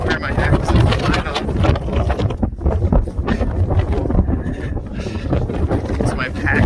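Strong wind buffets the microphone on an open mountain bald along the Appalachian Trail near Max Patch, a loud, continuous roaring rush with gusty surges throughout.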